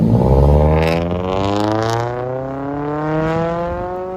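A 2016 Scion tC 2.5L four-cylinder with a metal bottle muffler and rear muffler delete revs up loudly close by, then the exhaust drones as the engine pitch slowly falls and settles.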